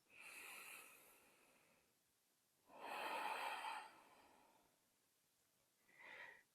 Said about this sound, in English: Taking a nice slow breath in through the nose and exhale, letting it out through the nose.